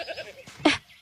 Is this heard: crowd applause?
no